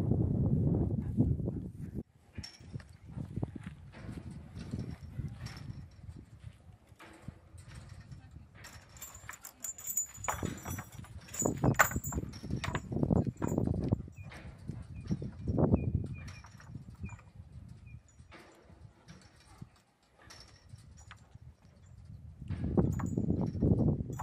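A gentle pinto pony used for ranch work walks at an easy stride, its hooves clip-clopping in a loose rhythm on open ground, with outdoor rustling and occasional swells of low noise.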